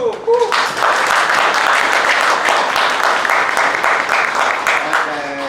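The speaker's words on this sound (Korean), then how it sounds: "다음 정은재 스텝님. 박수!" A burst of sustained applause from a crowd at a fan party, steady and fairly loud for several seconds, with a voice just before it begins.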